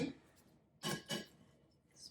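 Spoonfuls of Brussels sprouts land on a plate in two quick, soft clinks in a quiet kitchen.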